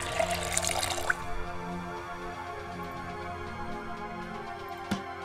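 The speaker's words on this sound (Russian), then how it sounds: "Наполнить бутылку воды." Water runs into a bottle being filled in the survival video game Project Zomboid, a steady, close gurgling flow that fades into a low hum, with a faint clink near the end.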